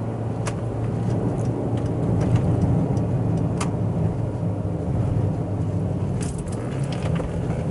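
A manual Proton Waja being downshifted with a throttle blip while cornering: a steady, close engine drone with road noise heard from inside the car, with no clear separate rev spike.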